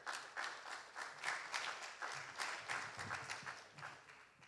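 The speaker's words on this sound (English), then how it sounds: "Big round of applause, please, for Howard." Audience applause at a Chabad gala for a volunteer called up on stage, a steady wash of many hands clapping at moderate level throughout, with no talk over it.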